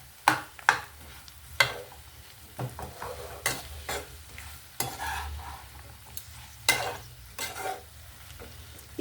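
Ridge gourd pieces sizzle in hot oil with turmeric in a pan, stirred with a spoon that scrapes and clatters in irregular bursts over a steady frying hiss, close and alone without talk.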